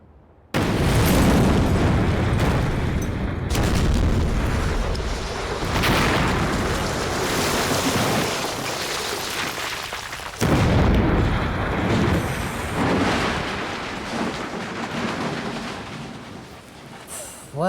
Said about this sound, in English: Wow, that was a much bigger explosion than I expected.